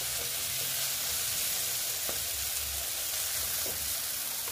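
Jackfruit fries in oil with a cooked-down spice paste, a steady dense sizzle throughout with a few light stirring scrapes and soft knocks.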